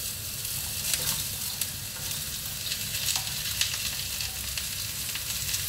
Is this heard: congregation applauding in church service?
no